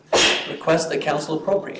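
A single sharp, loud sneeze bursts out during a municipal council meeting in a hall, immediately followed by a person speaking.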